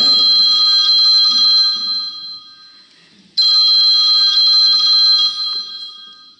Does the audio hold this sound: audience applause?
no